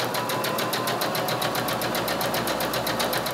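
A sewing machine with a quarter-inch quilting foot stitches patchwork pieces, running in a fast, steady, even mechanical chatter that stays close and constant throughout, with no voices.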